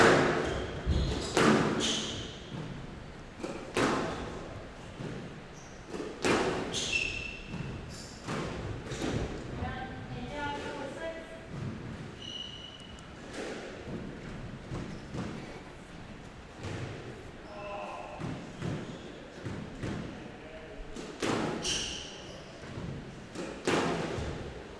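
Squash rally in an Unsquashable Premier League match: sharp, irregular thuds and cracks of the ball striking the walls and racquets, echoing in the court, while a commentator talks throughout.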